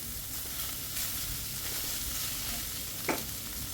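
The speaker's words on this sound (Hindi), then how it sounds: "चम्मच चला लेंगे।" A spoon stirs a paratha filling of shredded boiled chicken in a hot pan, giving a steady soft sizzle with one brief scrape or clink near the end.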